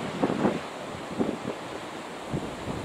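Wind gusting along a rocky shore where a heron is being blown about, with surf in the mix; the broadband rush swells in a few louder gusts over about three seconds, with no voices.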